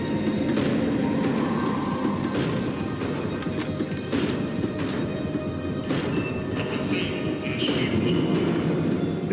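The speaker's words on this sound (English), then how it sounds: "The tram was slowing down, and I'd only just gotten on board." A tram in a video game slows down on its rails, with a continuous rumble under repeated metallic wheel squeals and clanks that build and fade over several seconds. No voices are heard.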